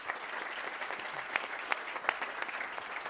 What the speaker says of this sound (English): let me thank you and clap hands for the very interesting panel you had